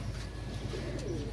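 A homing pigeon, the first to return from a flight, coos in low soft repeated notes close by, over a steady background hum.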